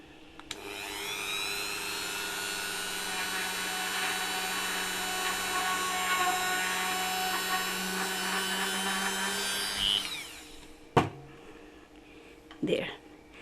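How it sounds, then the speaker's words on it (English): A Dremel rotary tool with a very small drill bit whines steadily at high pitch as it bores a hole through a resin piece, then cuts off, followed by a few light clicks and taps. "I used this Dremel machine with a very small bit, I think, drill bit, like this. And I will go right through."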